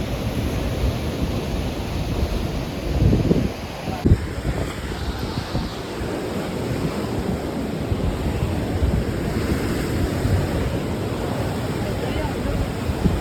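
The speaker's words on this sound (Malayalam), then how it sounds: "ഇവിടെ നല്ലോണം വെള്ളം തെറിക്കും കേട്ടോ." Waves splash and surge at an estuary where a river meets the sea, a continuous loud wash of water with heavy wind buffeting the microphone and people talking nearby.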